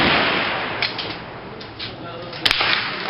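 A single sharp crack from a 1950 BSA Birmingham .22 rimfire target rifle made in England rings out near the end, following a brief hiss of background noise.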